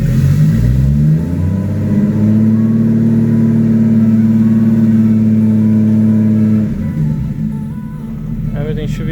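A BMW E36 drift car with a freshly swapped ZF transmission revs hard through its gears, a loud droning engine note climbing steadily for several seconds before backing off and fading into quieter rumble.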